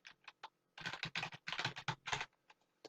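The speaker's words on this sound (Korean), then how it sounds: "쉬프트 누르고 키보드 6 숫자" Keys clatter on a computer keyboard nearby: a few scattered taps, then a rapid run of close, crisp keystrokes in uneven clusters, with no voices.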